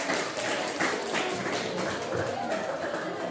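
Students in a classroom clap together as a group, producing a steady, fairly faint patter of overlapping claps throughout, with some voices underneath.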